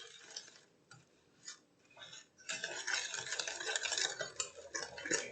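A spoon stirs Snickers apple salad with brown sugar in a bowl, giving soft scrapes and light clinks that start sparse and then turn into a steady, busier stirring.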